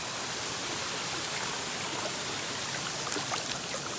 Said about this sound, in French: là je vais aller dans le ruisseau